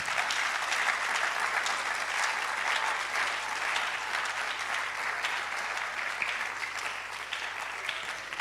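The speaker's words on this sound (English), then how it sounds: "Let's give them a big round of applause." Audience at a public lecture of the Ghana College of Physicians and Surgeons breaking into sustained, dense applause that fills the hall and tapers slightly toward the end.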